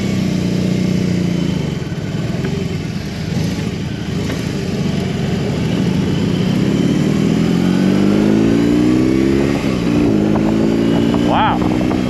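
A 2022 BMW R18B motorcycle runs with a loud, steady engine rumble that climbs in pitch as it accelerates, under heavy wind buffeting. A rider speaks over it.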